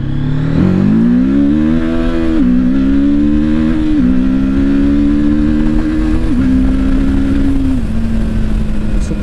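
A 2024 TVS Apache RTR 310 motorcycle accelerates on a ride, its loud, close engine note climbing repeatedly in pitch and dropping at each gear change before it settles into a steadier drone.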